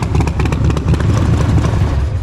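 A Harley-Davidson motorcycle engine fitted with a new exhaust pipe idles loud and close, a deep, steady, lumpy rumble with rapid rhythmic pulses and no speech over it.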